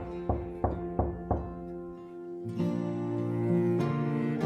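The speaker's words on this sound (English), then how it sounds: "there was a knock on the door." Four evenly spaced knocks on a door, close and clear, followed by a low sustained musical drone.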